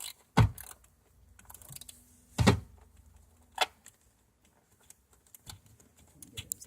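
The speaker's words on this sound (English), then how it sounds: "Just ratcheting everything down." Short bursts of ratchet clicks tightening bolts on a Lexus ES 300, with several quick clusters of mechanical clicks separated by quiet pauses, close and fairly loud.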